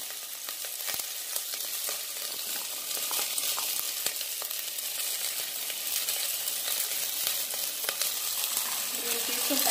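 Green peas, tomato and onion fry in ghee for a vegetable pulao, a loud steady sizzle with crackles and the scrape of stirring throughout.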